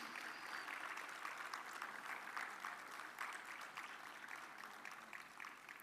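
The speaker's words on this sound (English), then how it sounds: "a round of applause on the release of ISHTA Technologies Compendium" Steady applause from a seated audience at a health technology assessment symposium, marking the release of a technology compendium by a minister; sustained dense clapping throughout, fairly distant and even, fading slightly toward the end.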